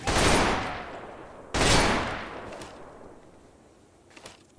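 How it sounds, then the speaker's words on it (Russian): Two loud gunshots from a video game shooter, each followed by a long echoing decay, then a few fainter distant pops. "Стреляет он."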